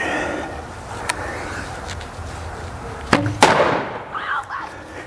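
A thunder cap fixed to an arrow snaps sharply on impact outdoors. A single loud crack stands out briefly over steady background noise, followed by faint voices in the distance.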